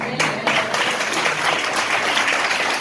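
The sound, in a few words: audience clapping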